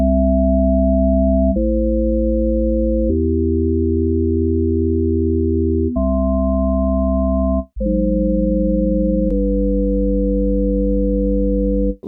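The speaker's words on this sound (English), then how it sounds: "So here's an opportunity to show you my updated chord sequencer firmware. Now I can play chords with this." Sustained synth chords from a Picotracker running chord sequencer firmware change every second or two, each held smooth and loud with a pure, buzzy tone and no talking.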